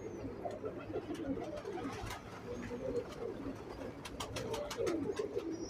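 Breeder pigeons cooing in a loft, soft repeated low coos layered over one another in a steady murmur, with some high chirps and a faint voice in the background.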